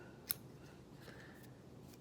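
Scissors snip once through fly-tying material on a Gypsy King fly with a red body, one crisp close cut near the start and then near silence.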